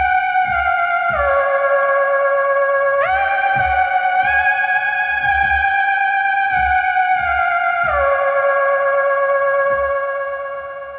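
A Studiologic Sledge synthesizer set to imitate a theremin, as heard in the 1945 horror film Spellbound, playing a continuous wavering tone that slides smoothly between pitches over a soft low rhythmic pulse; loud, steady and without speech.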